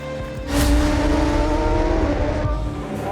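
Supersport 600 class racing motorcycles with production-based engines up to 600 cc scream past at a Ukrainian SBK championship race, a loud sustained high-revving engine roar that swells in after a brief quiet start and holds steady.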